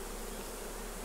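Honey bees swarm around an open beehive as frames are shaken out, a dense continuous buzz filling the air at steady loudness.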